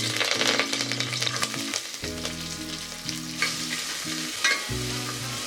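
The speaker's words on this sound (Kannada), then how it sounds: "ಕರಿಬೇವು ಹಾಕ್ಕೊತಾ ಇದ್ದೀನಿ." Curry leaves sizzle and crackle in hot oil for a tempering, with stirring and clatter in the pan, after mustard seeds have popped, for a drumstick sambar. The loud, steady frying runs without a break and has no talk over it.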